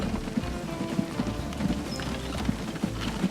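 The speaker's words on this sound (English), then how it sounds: "following the American horse cart on its merry way in terms of leaving up more supplies." Hooves of an American horse cart clip-clop steadily in a Transport Fever game scene, a regular, moderately loud patter of hoofbeats over a low ambient bed with no voices.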